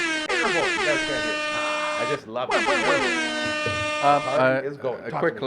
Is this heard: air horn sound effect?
yes